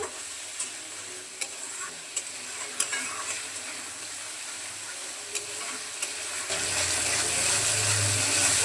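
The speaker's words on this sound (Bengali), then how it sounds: "এখন মশলাটাকে ভালোভাবে কষিয়ে নিচ্ছি।" Cumin, turmeric, chilli and coriander powder frying in oil for a koi fish curry, a low sizzle punctuated by spaced spatula taps, then a louder rushing, watery hiss swelling in the final seconds, no talk.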